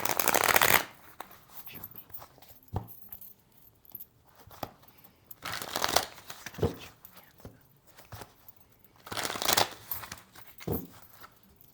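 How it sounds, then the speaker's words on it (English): Afro Goddess Oracle tarot cards riffled and shuffled by hand in three loud bursts, with softer card handling and taps in between, close up and without talk. "I will pull you a card from the Afro Goddess Oracle deck"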